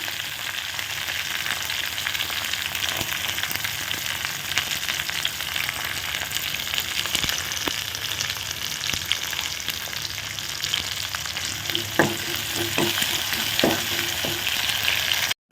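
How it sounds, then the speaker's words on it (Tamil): Small shallots and curry leaves sauté in a pan with a continuous close frying hiss, while a few light scrapes and taps of a stirring spoon come through near the end. "ஒரு நூறு கிராம் சின்ன வெங்காயம் கருவேப்பிலை போட்டு நல்லா வதக்குங்க"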